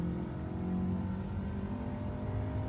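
An Abarth car engine hums and revs at a steady pitch in the racing game Gran Turismo 7, a continuous, moderately loud drone with no other sounds over it.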